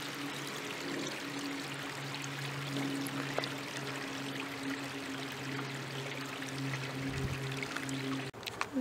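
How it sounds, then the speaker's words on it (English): A tributary stream flows into the Clarion River along a forest loop trail, giving a soft, continuous trickle and wash of water that stays steady and fairly quiet, with a low hum beneath it and a brief bump near the end. "And there's the tributary flowing peacefully into the Clarion River."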